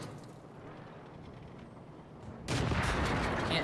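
Tank gun in the World of Tanks video game fires once with a heavy boom that swells into a sustained rumble after a stretch of steady battle ambience.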